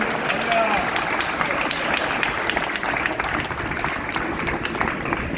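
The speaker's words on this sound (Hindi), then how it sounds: "हम ताली बजा करके उनका स्वागत करें।" A gathered audience claps steadily to welcome a visiting spiritual guest, a dense continuous patter of many hands mixed with voices underneath, even in level throughout.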